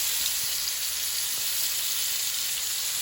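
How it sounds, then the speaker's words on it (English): Salmon fries in olive oil in a pan, a loud, steady, close sizzle that hisses continuously with no talking. "we're going to fry our salmon in the olive oil next"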